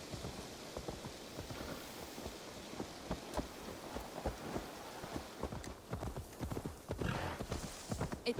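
Horse hooves clip-clop in Assassin's Creed Valhalla, a steady walking rhythm of soft, close hoofbeats over a faint rainy ambience, growing busier toward the end.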